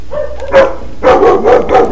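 Several dogs bark in the Silent Hill video game, a burst of harsh barks followed by a run of three or four close, loud barks in quick succession.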